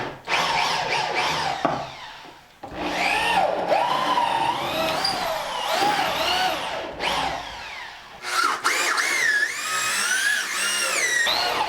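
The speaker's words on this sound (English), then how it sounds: "Let's drill us a hole" A power drill bores a hole in a workshop during electrical work, its motor whining up and down in bursts with short pauses between runs.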